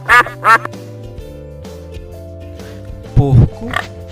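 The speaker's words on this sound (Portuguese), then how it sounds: "Pato," Two loud duck quacks close together near the start, followed by a grunting pig-like oink later, over a faint steady background hum.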